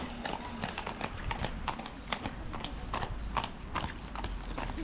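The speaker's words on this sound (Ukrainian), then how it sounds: "Це там коні?" Horses clip-clopping on a mountain route up to Kasprowy Wierch, Poland, a steady patter of hoofbeats heard at moderate distance over an ambient outdoor background, with no talk.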